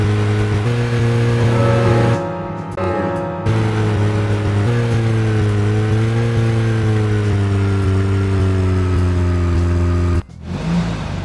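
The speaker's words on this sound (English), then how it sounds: "Let's concentrate on driving instead." A car driving in the video game Deadly Premonition, a loud steady mid-pitched engine hum that shifts pitch between gears and cuts out briefly twice before resuming.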